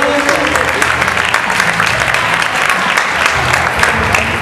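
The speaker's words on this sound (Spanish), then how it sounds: "Fuerte el aplauso para la punky." Loud, dense applause from a circus gala audience at a circus school show in Rosario, steady clapping filling the whole stretch with crowd noise and a few brighter claps standing out.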